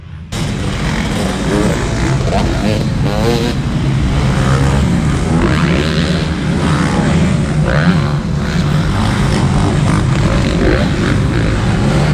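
Motocross bikes race on a dirt track at an event, including a two-stroke KTM, filling the air with a loud, continuous engine drone that rises and falls as they pass.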